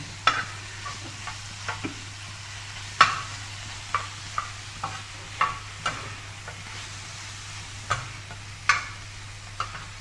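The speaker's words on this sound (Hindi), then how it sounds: "कीमे को इसी तरह फ्राई कर रही" Minced mutton keema frying in a pan, with a soft steady sizzle and a low hum beneath it, broken by repeated sharp scraping and stirring clicks at an irregular pace, close and moderately quiet, no voices.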